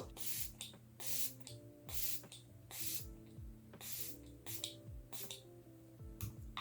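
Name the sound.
setting spray being sprayed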